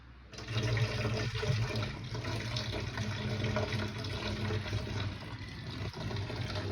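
Eggplant being washed in a bowl of water in a home kitchen, with continuous splashing and sloshing, faint tap-like rushing, and a few soft clunks.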